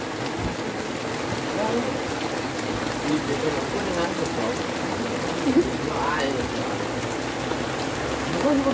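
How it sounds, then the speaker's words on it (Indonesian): Light drizzle falling outdoors on an open field, a soft continuous hiss of fine rain that stays steady throughout, with faint distant voices murmuring underneath. "Gerimis."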